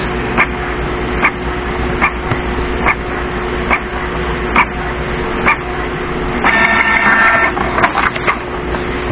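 A Canon G3010 inkjet printer runs a print job with a steady mechanical whir, regular sharp clicks about every second, and a louder busier feed passage toward the end.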